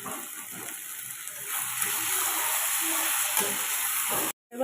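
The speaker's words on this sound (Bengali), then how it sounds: "এবার মাছগুলো দিয়ে দেবো দিয়ে ভালো করে নেড়ে নেবো" Small puti fish stirred into braised cabbage in a hot pan give a steady, close sizzling hiss that swells slightly midway, with faint scraping of stirring, then cuts off abruptly near the end.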